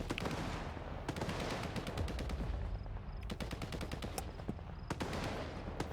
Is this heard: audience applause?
no